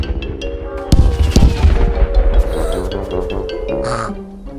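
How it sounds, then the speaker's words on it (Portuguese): Cartoon fireworks from a Peppa Pig episode explode in a loud cluster of sharp pops and bangs, followed by a fading crackle. "E agora é hora dos maiores fogos de artifício."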